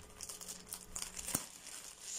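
A sealed plastic delivery packet, holding a small order, is handled and opened with soft, close crinkling and rustling that rises to one sharper crackle near the middle, with no talk.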